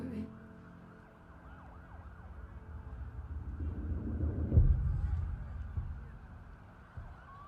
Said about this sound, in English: the police sirens and the people screaming at the end.